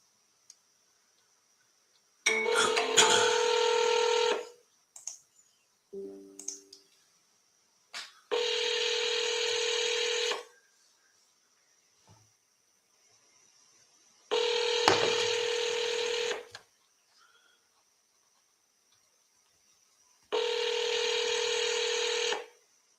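Phone dialing tones repeat in four long buzzing bursts of roughly two seconds each, separated by silences with faint clicks, as a seller's number is called twice in a row.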